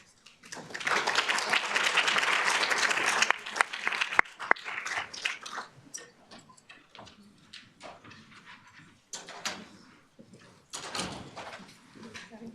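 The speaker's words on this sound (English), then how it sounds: "Please give a warm round of applause to Pekwi." Audience applause fills the room at an accelerator pitch-off event, a dense burst of clapping for several seconds that thins into scattered claps and light room noise.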